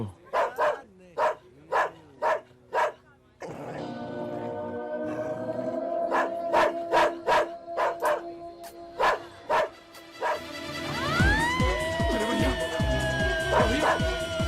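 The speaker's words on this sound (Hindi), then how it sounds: "अरे भैया, किसका कुत्ता है ये?" A dog barks in a steady run of loud, close barks, then yelps and howls over a swelling musical backing.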